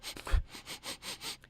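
A voice imitates a creature sniffing behind a door: a quick, soft series of about six short nasal inhales in a steady rhythm, close and quiet.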